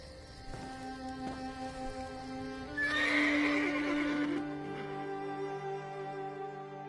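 Horses in the Elder Scrolls Online video game give a loud, close neigh with whinnying over a few seconds. Occasional hoof clops come before and after it against a steady tonal music bed, and no voices are heard.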